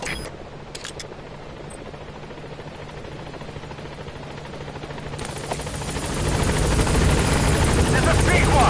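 In the Metal Gear Solid 5 video game, the Pequod helicopter arrives at a landing zone. Its rotor thrum starts steady and distant, then grows much louder and fuller as it closes in, with a radio voice speaking over it.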